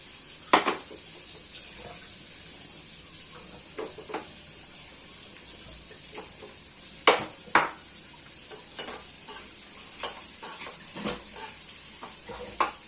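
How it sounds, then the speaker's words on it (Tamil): Onions sautéing with salt in a pan on the stove, a steady soft sizzle under repeated clicks and scrapes of a spatula stirring at an uneven pace. "வெங்காயம் நல்லா வதங்கட்டும். இந்த வெங்காயம் வதங்கிறதுக்கு நம்ம கொஞ்சம் சால்ட் ஆட் பண்ணிக்கலாம்."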